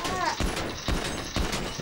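A .50 pistol fires in Grand Theft Auto V, three sharp shots spaced roughly half a second apart, each with a short booming tail, close and loud.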